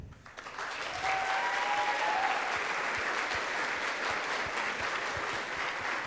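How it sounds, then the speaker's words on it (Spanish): An audience at the ICPC Latin America closing ceremony breaks into steady, full applause that swells quickly and holds evenly, with a faint voice briefly audible under the clapping. "Un aplauso de nuevo"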